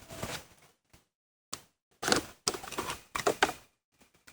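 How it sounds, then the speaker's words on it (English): Volkswagen door panel being pried off its clips, a handful of sharp plastic clicks and snaps in short bursts with quiet gaps between, close and fairly soft. "Let's pop this panel off."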